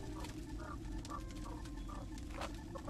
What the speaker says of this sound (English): I'll just dump all these hens in here.